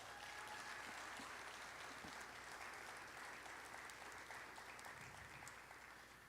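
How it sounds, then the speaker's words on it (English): An awards ceremony crowd gives a round of applause for the Cayman Connection organisation, a thick, even roar of clapping that stays steady throughout without pause. "Please give them a round of applause."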